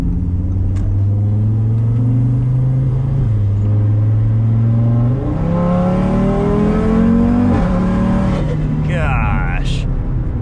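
A built 800 HP big-turbo Audi RS3 with a full exhaust accelerates gently from inside the cabin, its engine drone climbing through several gear changes, loud but steady and not harsh, while someone talks.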